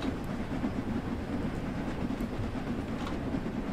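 Steam locomotive pulling away in a train simulator game, with cylinder cocks closed: a steady, moderately faint rumbling chug and rail rhythm continuing evenly throughout, no voices.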